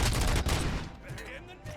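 Bursts of gunfire in Robocop Rogue City, loud rapid shots up front fading into scattered quieter reports, with faint voices in the background.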